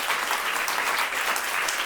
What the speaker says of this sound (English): Give these women a round of applause